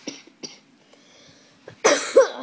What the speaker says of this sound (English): Sorry for my brother's coughing